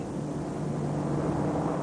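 A B-29 bomber in flight carrying the X-1 rocket plane in its modified bomb bay, a steady droning propeller engine roar, continuous and even with no voices.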